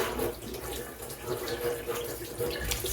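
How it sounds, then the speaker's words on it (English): Water runs steadily from a kitchen tap while a butternut squash is rinsed under it, a close, continuous splashing hiss with small irregular surges. "rinsing it off"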